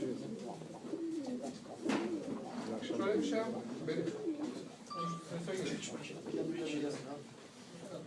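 Pigeons coo repeatedly nearby while people talk over them.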